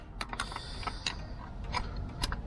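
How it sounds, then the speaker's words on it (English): A ratchet wrench works on the power steering hose of a 1991 Ford Ranger, giving quick, close metallic clicks in short irregular bursts. "I'm using a ratchet here."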